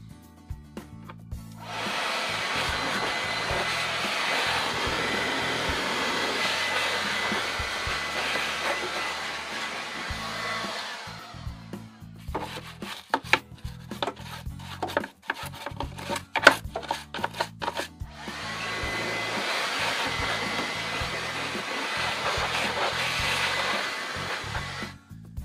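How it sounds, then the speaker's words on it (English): Compressed-air blower cleaning out the air filter housing of an Opel Corsa, two long loud hissing blasts separated by a stretch of clattering and handling noises, with no speech. "I just take my blower and I blow it out"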